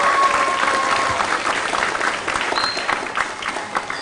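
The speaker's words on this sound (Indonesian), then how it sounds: "mari kita tepuk tangan meriah buat kedua profesor kita yang luar biasa" Audience applauding two professors at an event, a dense sustained clapping from a sizable crowd that stays loud and steady throughout.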